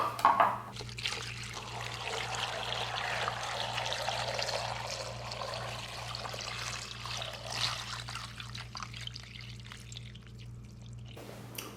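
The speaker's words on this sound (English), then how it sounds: "water all the way up to the max line" Water pours steadily into a pressure cooker pot for vegetable stock for several seconds, a continuous splashing rush over a low steady hum, with no talking.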